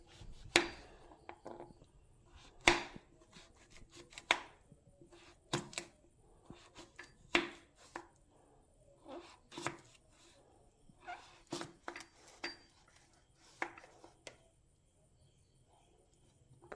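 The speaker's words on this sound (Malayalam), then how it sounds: "ക്യാരറ്റ് ഇതേ പറഞ്ഞ പോലെ ചെറുതാക്കി കട്ട് ചെയ്യണം." A knife chopping carrot finely on a board: sharp, irregular knocks coming in quick bursts with short pauses between them, close and fairly quiet.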